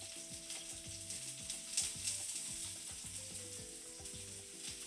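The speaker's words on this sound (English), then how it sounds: "I'm going to go ahead and introduce the garlic and shallots that we cut up a little while ago into the pan." Chopped garlic and shallots frying in a pan alongside seared trout fillets, giving a soft, continuous sizzle with faint spatter that sits beneath louder background music.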